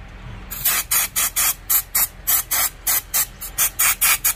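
Repeated short bursts of aerosol cleaner sprayed onto a car throttle body's IAC valve, about a dozen loud, close hissing blasts in a fairly even rhythm with brief gaps between them.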